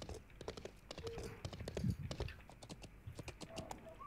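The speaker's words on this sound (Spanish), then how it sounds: "Escucho un caballo, ¿eres tú?" Horse hooves clip-clopping in the medieval online game Life is Feudal, a quick uneven run of sharp knocks at moderate distance, mixed with faint clicking and brief tonal game sounds.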